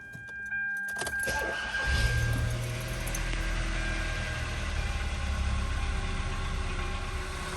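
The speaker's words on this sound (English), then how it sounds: "car's running now for 15 minutes" A 2013 Kia Soul with 185K miles idles steadily after start-up, its low engine hum running continuously and fairly close, with a brief jingle of keys and small cabin clicks near the start.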